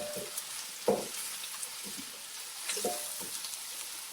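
Chopped ginger and garlic sizzle and fry with lightly browned onions in a kadai, a steady crackling hiss broken by a few louder bursts as the pan is stirred, with no talking.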